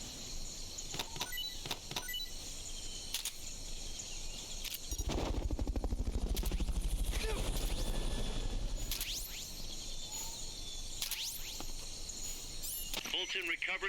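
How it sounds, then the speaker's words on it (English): Helicopter in the video game Metal Gear Solid: Peace Walker, a rhythmic rotor thump that swells for several seconds among game effects and beeps, with voices speaking over it. "Fulton recovery subject confirmed onboard helicopter"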